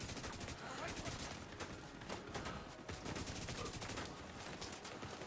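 Turret gunfire in The Division 2: dense, continuous automatic bursts hammer away without pause for the whole stretch, loud and close, with crackling impacts layered over a rumbling game backdrop.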